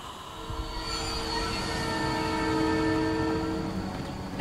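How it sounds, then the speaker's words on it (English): A train approaches with a steady, swelling rumble and a sustained horn tone that grows louder over several seconds, with no voices. "There's a train coming."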